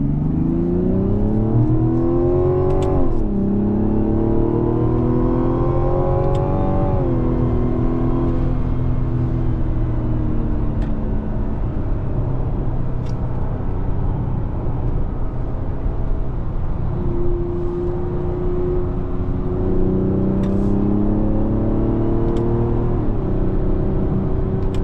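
Engine of a 2025 Mazda CX-70 after a paddle-shift downshift to second gear, revving in steady rising and falling harmonic sweeps, loud and continuous from inside the cabin with no talk.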